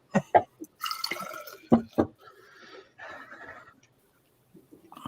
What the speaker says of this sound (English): let's pour this up, shall we, my friends?